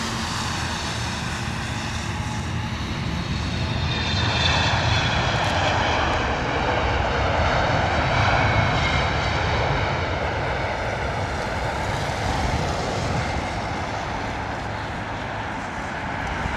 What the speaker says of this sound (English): That 777 was looking amazing coming down.